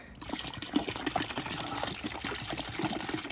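Vinegar being poured into a container for soaking barnacle-covered underwater fish lights, a close, steady splashing trickle of liquid lasting a few seconds.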